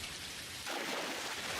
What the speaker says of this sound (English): Why is it raining every single time I need to go fishing?